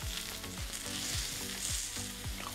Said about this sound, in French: Je vais venir mettre mes endives. Je vais même revenir mettre un peu d'huile d'olive par-dessus.